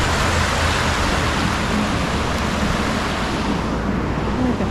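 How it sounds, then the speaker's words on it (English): A creek near an old historical mill at Cumberland Gap gives a steady, dense, full-band rush of flowing water throughout, loud and unbroken, with no talk. "Listen to the nice creek."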